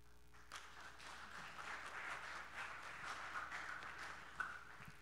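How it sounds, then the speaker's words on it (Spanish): Timid, thin applause from a workshop audience, a light scattering of claps that swells briefly and stays faint and distant for several seconds, without talking over it. "los aplausos más tímidos son para el gobierno y los aplausos fuertes son para el sector social"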